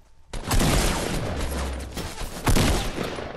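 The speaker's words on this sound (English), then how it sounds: "You shot me so many times, dude." Rapid gunfire in a Fortnite duos battle royale match, a dense close burst of repeated shots that runs almost continuously, with a louder cluster of shots near the end.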